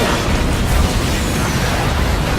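Rockets are fired and burst in a pirate naval battle in an open-world video game, making a dense, continuous, loud rumbling roar of blasts that fills the whole moment.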